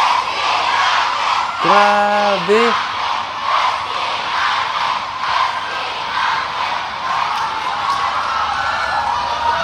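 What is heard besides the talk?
audience shouting and screaming while waiting for SB19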